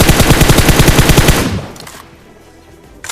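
Rapid automatic gunfire from a mobile battle royale video game, a loud sustained burst of repeated shots for about a second and a half before cutting off into quiet background game noise.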